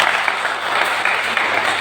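An audience at a multi-level marketing motivation class claps in a short, dense, even burst of applause with no pauses.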